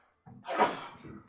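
A single sharp human sneeze bursts out after a brief silence, close and fairly loud, with a short spoken reply following.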